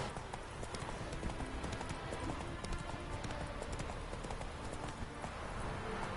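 A horse's hooves clip-clop in a fast steady rhythm within a PlayStation 4 video game, close and continuous under faint background ambience.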